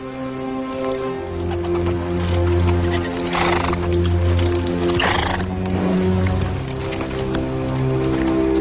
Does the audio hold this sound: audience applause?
no